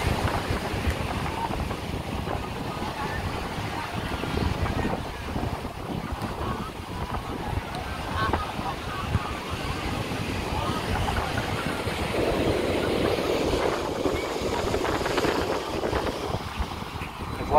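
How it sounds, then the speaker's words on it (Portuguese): Strong wind buffeting the microphone at Iracema beach in Fortaleza, a constant roaring gust with surf noise beneath, while someone talks over it. "tá ventando muito"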